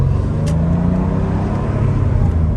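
1998 Porsche 911 C2 Cabriolet on the road heard from the passenger seat, a steady loud engine drone with road rumble, holding even throughout.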